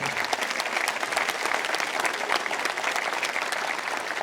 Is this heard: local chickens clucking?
no